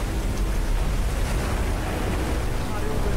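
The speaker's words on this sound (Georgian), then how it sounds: "ნავს ვეღარ უმართავთ ამ ტალღებზე." Storm waves and strong wind toss a small boat on a rough sea, a loud, continuous roar of surf and gusts with no break.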